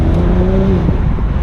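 Engine of a 2008 BMW 135i E82 convertible pulling under acceleration, a steady loud drone with a rising harmonic that dips near the end, close and continuous with road noise beneath.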